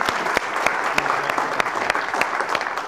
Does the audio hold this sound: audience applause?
yes